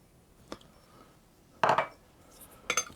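Sultanas and chopped mixed peel tossed together in a mixing bowl for a Cornish heavy cake (hevva cake). Three brief, separate clinks against the bowl, with quiet gaps between them.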